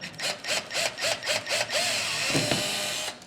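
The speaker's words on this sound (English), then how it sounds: "drill us a little tiny hole right there" A small power drill with a 7/64-inch bit whirs in several short bursts, then runs steadily into wood for a couple of seconds before winding down.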